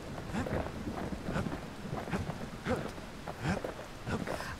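Heavy rain pours down in the video game Bastion, a soft, dense hiss that carries on steadily. Faint rumbles and a few low, rhythmic thuds sit underneath it.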